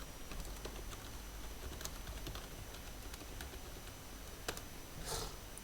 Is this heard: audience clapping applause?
no